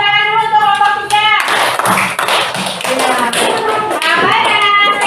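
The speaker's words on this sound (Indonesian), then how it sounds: "Tepuk tangan dulu untuk kelompok 3." A classroom of children applauding a student group's presentation, a loud, dense burst of clapping after a raised voice at the start, with young voices mixed through.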